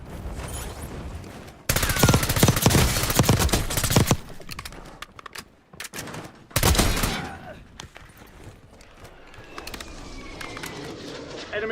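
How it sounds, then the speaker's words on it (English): Gunfire in Call of Duty Warzone: loud bursts of automatic shots in two heavy stretches, then scattered distant firing over in-game ambience. "Oh no, he's still shooting."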